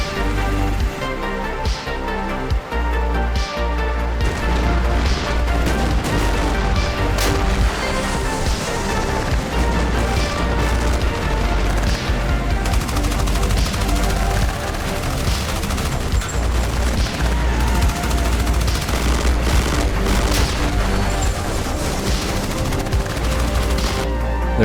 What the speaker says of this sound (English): My men that are in the left outer building start taking some fire from some stragglers out in the woods